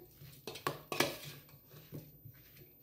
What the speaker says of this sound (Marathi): ही 2 चमचे साखर आणि हे पूर्ण मिक्स करून घ्यायचं आहे